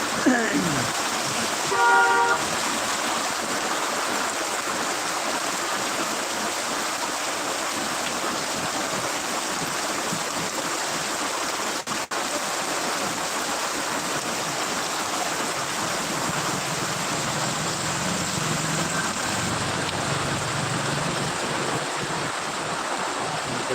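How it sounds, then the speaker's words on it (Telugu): Heavy rain without thunder pours steadily in Udayagiri, a broad continuous wash of noise; a brief horn-like toot sounds near the start, and no thunder is heard. "వర్షం అయితే బాగానే పడుతుంది ఉరుములు లేకుండా"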